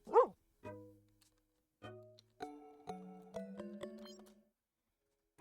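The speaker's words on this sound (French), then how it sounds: "Bon toutou." A small dog in the video game Tomodachi Life 2 yips a few times in short bursts, then a bright chiming jingle of stepped musical notes plays.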